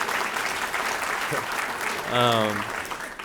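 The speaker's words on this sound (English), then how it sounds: "Round of applause, please, for my mother, yes." Applause at an awards dinner rises as the audience claps for a guest, a moderate wash of many hands with whoops and a brief tonal cheer or whistle partway through, voices mixed in underneath.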